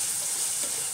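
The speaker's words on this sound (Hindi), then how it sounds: "अच्छी तरह से हम भून लेते हैं।" Chopped tomatoes frying in a pan as the base of a paneer butter masala gravy, giving a steady, even sizzling hiss that runs unbroken throughout with no voices.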